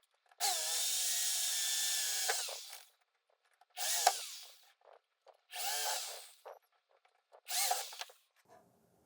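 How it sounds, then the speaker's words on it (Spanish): Power drill boring holes into wooden boards: four separate bursts, the first long at about two seconds and the next three shorter, each whining up and then stopping, with brief handling noises between them and no talk. "Perforamos, de paso podemos hacer un agujero."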